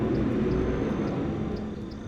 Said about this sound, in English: There's literally no way you do not hear that jet.